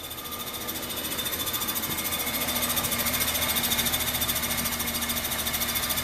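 A wobbling A/C compressor pulley on a 1989 Ford F150 engine gives a steady, fast mechanical rattling and knocking over the running engine's hum, close and even throughout, with no talk.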